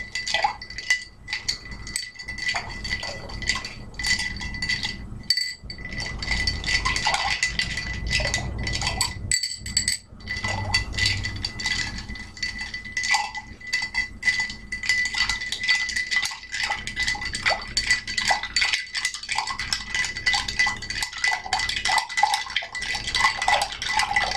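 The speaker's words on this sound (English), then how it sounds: "Stir until it's nice and cold." A bar spoon stirring ice in a mixing glass for a Gibson martini, rapid continuous clinking and rattling of ice against glass, close and fairly loud with no talk.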